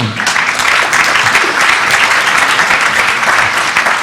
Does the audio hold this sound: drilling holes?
no